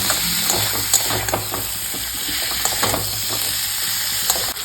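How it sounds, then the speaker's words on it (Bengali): Crab pieces stir-fried in a spice paste for a spicy Bengali crab curry, a steady loud sizzle with repeated scraping and stirring clatters throughout. "কাঁকড়াগুলো দিয়ে দিচ্ছি সব কিছু দিয়ে একসাথে কষিয়ে নিচ্ছি"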